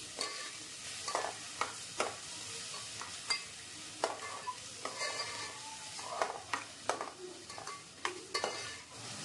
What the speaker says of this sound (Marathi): हळद आणि मीठ लावून ठेवलेले झिंगे आणि आता सगळं परतून घेतलं आहे